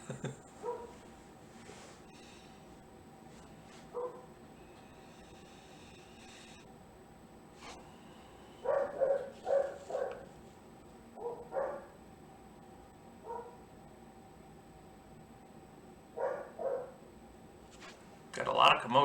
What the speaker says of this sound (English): Don't know if you can hear the dogs barking in the background